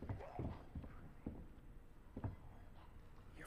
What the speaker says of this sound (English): Your footsteps are so heavy, Leon!